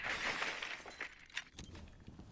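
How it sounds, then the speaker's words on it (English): Glass shattering in a tactical shooter video game, a faint crunchy break with tinkling fragments followed by scattered light impacts and what may be footsteps, quiet and somewhat distant. "hearing the glass breaking"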